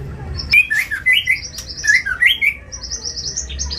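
A long-tailed Bahorok white-rumped shama sings nearby in bright, rapid chirps and trills, the phrases repeating almost without pause over a low background hum.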